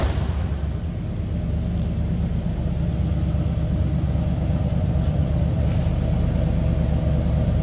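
A 1976 Chevrolet Malibu Classic runs steadily with a deep, even exhaust rumble, heard up close as a continuous low drone without voices.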